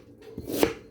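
A knife chops cooked beef fingers into cubes on a board, a few close, firm thuds building to one sharp loud strike, with no talking.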